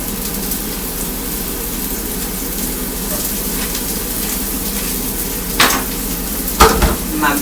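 Brussels sprouts, butter, olive oil and onions fry in a pan, a loud continuous hiss and crackle, close up, with a couple of brief utensil knocks near the end.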